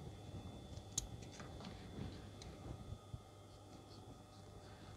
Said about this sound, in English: So I tend to put a snip in here first, like that, and then one round the corner.